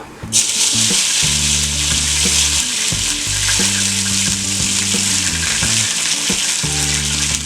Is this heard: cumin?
yes